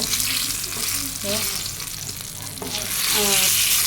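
Sliced eggplant sizzles steadily in hot oil in a frying pan, with a few clinks and scrapes as the pieces are stirred and lifted out, close and fairly loud.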